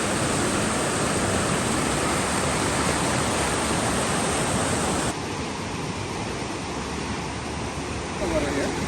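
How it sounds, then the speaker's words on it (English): A river flowing near a hiking trail at Hatcher Pass in Alaska, a steady loud broadband rush that drops slightly in level partway through, with no voices over it. "We are by the river."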